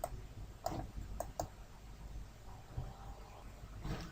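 A computer mouse clicks a few times, giving sharp, faint, close ticks over a quiet room hum during a software installation, with no voices.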